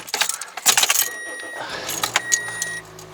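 A 2002 Toyota Echo in poor running condition drives around a neighborhood, its engine giving a brief, uneven buzzing note with scattered clunks and rattles close by.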